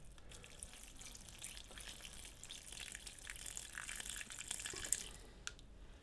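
Water poured steadily into a sealed houseplant container about a foot wide and four inches deep, a continuous close splashing gush lasting throughout with a few brief drips near the end.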